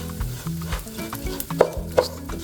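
Bacon, mushrooms, rice and turmeric with spices sizzle steadily in a pan while a utensil scrapes and stirs, with a couple of sharper clinks against the metal.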